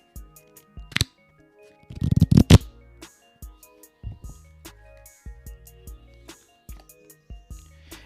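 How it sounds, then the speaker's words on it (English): A deck of cards from a question-card pack is shuffled once in a short, rustling riffle burst near the middle, surrounded by scattered soft taps and handling clicks in a quiet room. "So as per usual, I'll give it one shuffle."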